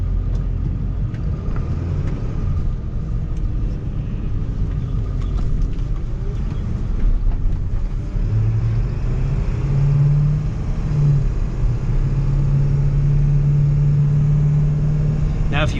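A car engine rumbling low while driving off and cruising, a steady mid-low drone with some rising hum, close and continuous under someone talking.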